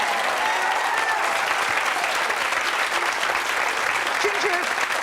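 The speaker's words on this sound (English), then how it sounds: "Ginger, a little applause for Ginger." Studio audience at a daytime talk show bursts into steady, loud applause that fills the whole stretch without pause, welcoming a relationship expert.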